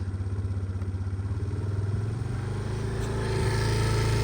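Suzuki Let's 4 fuel-injected scooter engine idling steadily on a cold autumn day, a close, continuous low putter with a faint rise in pitch near the end, no talking.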